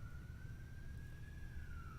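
A faint emergency vehicle siren wails in the distance, one long, slowly rising and falling tone over a low rumble of room noise, with no voices.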